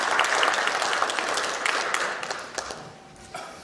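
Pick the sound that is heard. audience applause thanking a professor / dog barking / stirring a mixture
audience applause thanking a professor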